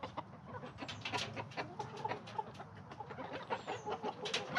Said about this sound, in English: those 5 new chickens that were born right at the first of the year